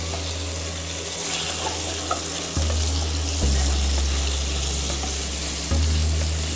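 Oil frying in a pan for bucatini amatriciana, a steady broadband sizzle with a low hum beneath, swelling louder in stages as more goes into the hot oil, with no talk.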